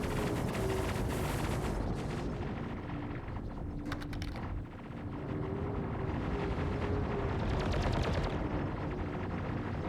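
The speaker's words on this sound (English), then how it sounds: "Look at those PDCs go." Point defense cannons in a video game fire in a dense, continuous rapid stream that stays loud almost throughout, easing briefly midway before surging again.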